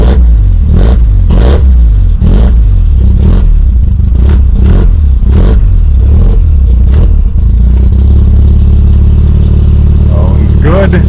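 A Mazda RX7 FD engine, just repaired and with the turbo blanket off, starts and revs hard: loud, close, rhythmic surges of engine roar that settle into a steady, rumbling idle.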